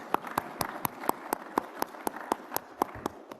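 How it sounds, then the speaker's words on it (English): Audience applause at the close of a keynote talk at a lunar proving grounds workshop, heard faintly and at a distance as a quick run of sharp, regular claps over a couple of seconds. "but we were all clapping"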